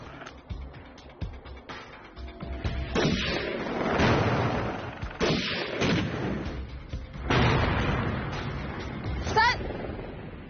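Sniper rifle shots fired at a moving high-altitude target on a windy, swaying challenge course at a televised competition, sounding as several loud sharp blasts with rumbling tails spread over the span, with voices talking in between.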